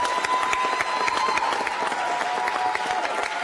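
A crowd at an end-of-year celebration gives the 2018 cohort a round of applause, with steady, dense clapping from many hands filling the room continuously and a faint tone lingering underneath.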